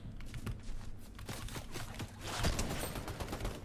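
Rapid gunfire in a Fortnite-style shooter game, sustained bursts of shots over a dense, noisy background, loud and continuous throughout with no voices.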